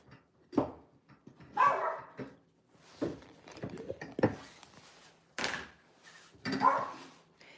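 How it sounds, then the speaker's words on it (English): A dog barks in a series of short, loud yaps with brief gaps between them, some sharp and high-pitched, close by. "Stop barking."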